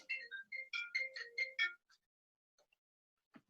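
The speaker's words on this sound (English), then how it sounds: "My wife's phone's on." A mobile phone rings at a home recording session, a bright electronic ringtone sounding in a rapid burst of tones for under two seconds, then stopping, leaving near silence with a few faint clicks.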